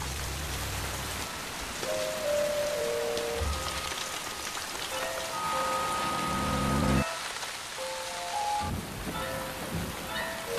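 Steady rain patters on surfaces throughout, in a scene from the TV series Lost, with sustained musical tones drifting over the hiss.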